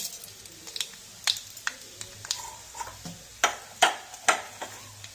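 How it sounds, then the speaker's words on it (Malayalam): Mustard seeds crackling in hot coconut oil in a pan, a string of sharp, irregular pops and ticks over a faint sizzle, spaced unevenly and growing busier toward the end. "കടുക് പൊട്ടി തുടങ്ങിയിട്ടുണ്ട്"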